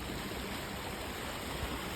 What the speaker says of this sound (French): Puis là, on entend le bruit de la rivière